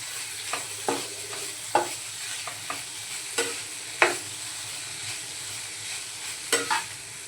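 Peanut powder being stirred into a bitter gourd stir-fry in a pan, with a steady sizzle broken by repeated short scraping strokes of the spoon across the pan, close and moderately loud, with no talking.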